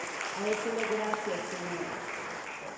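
A church congregation applauding, a broad steady patter of many hands filling the room at moderate level, with someone speaking loudly over it.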